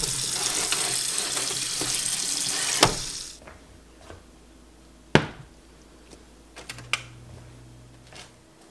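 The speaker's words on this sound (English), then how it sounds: "I am going to drain them in a colander in the sink, rinse them" Running tap water pours over soaked beans in a colander in a kitchen sink for about three seconds and then stops. Scattered clicks and knocks of handling follow in a quiet room.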